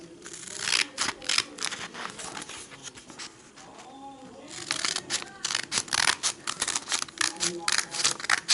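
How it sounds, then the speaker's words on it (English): Scissors snip repeatedly through paper in quick crisp cuts, pausing briefly midway before a faster run of snips resumes. "And then you can take your scissors and cut it out."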